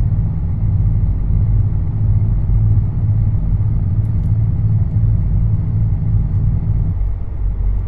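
Engine brake on a Freightliner Classic XL truck in American Truck Simulator, hauling double container trailers, making a loud, steady low rumbling drone that runs for several seconds and then drops in pitch near the end.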